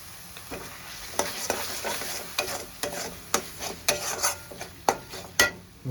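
Turmeric powder stirred into potatoes frying in a pan for Kashmiri aloo dum, with a utensil scraping and clinking repeatedly against the pan over a steady sizzle, close and fairly loud, no talking.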